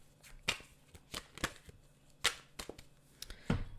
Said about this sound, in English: Shuffle a little bit the cards.